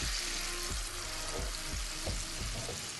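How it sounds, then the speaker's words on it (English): Honey garlic sauce simmers in a pan with a steady, dense bubbling sizzle while a utensil stirs it, with a few soft scrapes and knocks, close and continuous. "we're going to mix this up and just let it kind of simmer until it thickens up a little bit"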